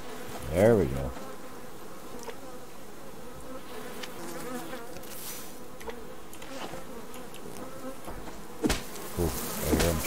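Bees buzz steadily in the survival game Subsistence, a continuous droning hum throughout with a few louder passes close by, and no talking.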